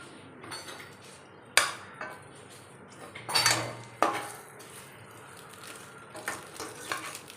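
Metal utensils clatter and scrape in a pan while ingredients for naraga (citron) pickle fry in oil, with a faint steady sizzle beneath intermittent louder knocks and stirring clanks.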